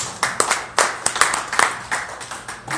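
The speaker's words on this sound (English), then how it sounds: "So give her a round of applause." An audience claps for Trustee Linda E. Young, a school board candidate, at a live interview event: a fairly near, moderately loud spatter of hand claps with sharp individual hits and a few louder accents, and no voices over it.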